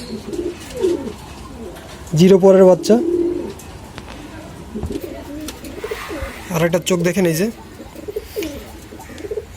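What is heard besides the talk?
Sylheti Kamagar pigeon chicks cooing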